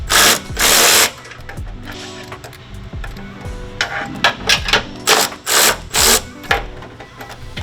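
Bolts on a 2024 L5P diesel fuel system being loosened with a power tool, several short loud whirring bursts separated by ratcheting clicks and clanks, close by with no talking.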